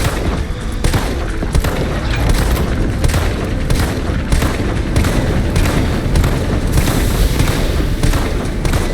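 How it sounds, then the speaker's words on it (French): A boss's fuel tank blowing up after being shot in a video game: a loud, continuous roar of booming blasts and crackling fire with repeated heavy thumps throughout, dense and close. "Je tire sur son réservoir."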